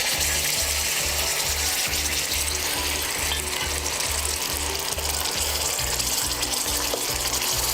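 Onion paste frying in hot oil with whole spices for a black pepper chicken curry, giving a loud, dense, continuous sizzle close up, with a steady rhythmic scraping of stirring running underneath the whole time.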